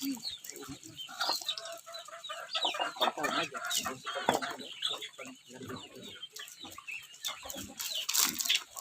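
Chickens and ducks clucking and calling while being fed at a rural farmyard, busy overlapping bird sounds close by with no talk.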